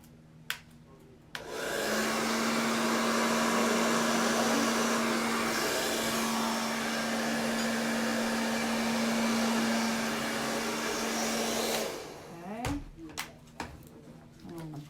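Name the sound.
hair dryer blowing on a paint pour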